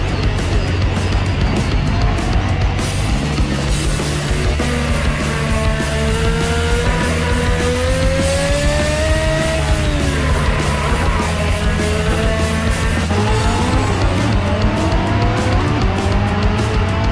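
A race car in Assetto Corsa screams through a hotlap, its engine note rising and falling through gear changes and corners, loud and continuous with no talking.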